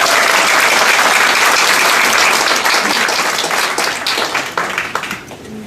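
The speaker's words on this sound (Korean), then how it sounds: "맞으면 박수라도 좀 치시고" Loud, dense applause from a lecture audience fills the whole stretch, many hands clapping together, then gradually thinning with a few scattered claps toward the end.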